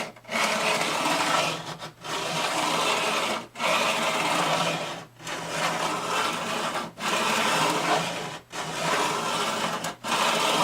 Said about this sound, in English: I'm just going to set the file on there very gently.